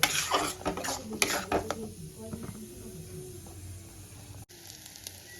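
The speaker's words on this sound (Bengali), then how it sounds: "এবার টমেটো পেস্ট আমি খুব ভালো করে কষাতে থাকবো" Tomato paste is stirred and sautéed in a pan for an egg curry. Brisk, loud scraping clatters come first, then give way to a quieter simmering hiss with occasional soft stirs.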